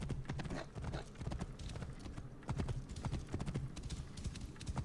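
Horse hooves clip-clopping in Assassin's Creed Origins while riding through a desert, a quick, steady, close gallop rhythm that runs throughout with no voices.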